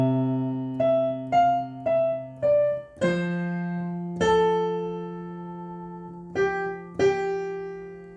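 Piano plays the chorus of We Wish You a Merry Christmas, part 3 of an easy arrangement, with clear separate notes over sustained low bass tones, each new chord struck distinctly, close and alone without talk.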